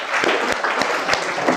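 Audience applause welcoming Govind sir at a motivational speech event, a dense steady clapping from a crowd, close and sustained with a few louder individual claps standing out.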